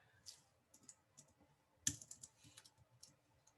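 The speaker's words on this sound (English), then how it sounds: "let me just type this really quick" Computer keyboard typed on in short bursts of quick, light key clicks with brief pauses, faint and close in a quiet room, with no voice.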